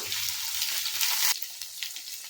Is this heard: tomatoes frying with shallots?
yes